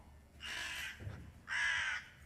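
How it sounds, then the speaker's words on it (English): A crow gives two loud, harsh caws, each about half a second long, separated by a short pause, clear and alone with no other sounds. "A crow sounds like a caw"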